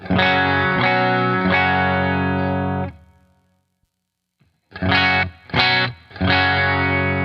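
Electric guitar played with a clean tone through Revv D20 amp cabinets: sustained ringing chords, a pause of near silence, then three short stabs and another held chord, loud and alone.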